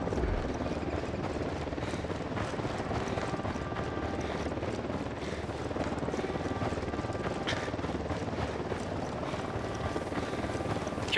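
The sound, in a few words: helicopter approaching in Ghost Recon Wildlands video game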